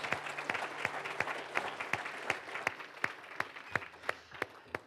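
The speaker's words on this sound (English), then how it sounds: "give the Lord a big old round of applause" A church congregation applauds together at a Sunday morning service, a dense, steady round of clapping filling the room with sharp individual claps popping out near the front.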